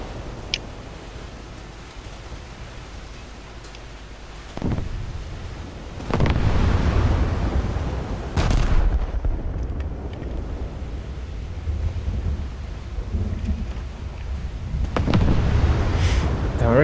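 Heavy 12-inch high-explosive naval shells in War Thunder, a series of deep, booming blasts that swell into long rumbles over a constant windy background.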